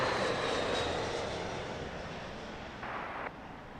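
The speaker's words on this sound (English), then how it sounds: "Vietnam Airlines 787-9 Dreamliner. That one coming in from Ho Chi Minh." Vietnam Airlines Boeing 787-9 Dreamliner arriving from Ho Chi Minh to land at London Heathrow, a broad steady jet rumble that slowly fades, heard at a distance with no talk.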